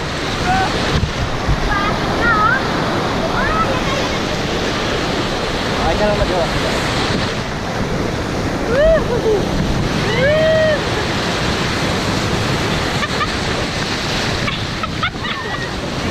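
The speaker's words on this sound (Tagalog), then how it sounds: "Lakas ng alon." Continuous roar of strong surf and wind on the coast at Baler, with waves breaking throughout and a few brief calls and a short spoken phrase over it.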